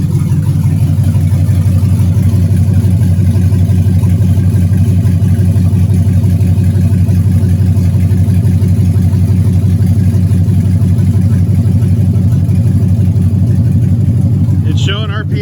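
An LS V8 engine in a Camaro runs at a steady idle, a loud, close, continuous low rumble with an even pulsing throb that lasts throughout.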